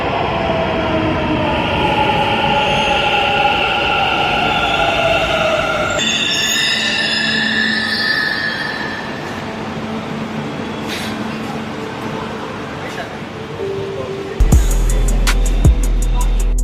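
A Bengaluru metro train near Majestic station rolls along with a loud rumbling roar and whining tones, easing off midway, followed by a few sharp clanks and beeps near the end.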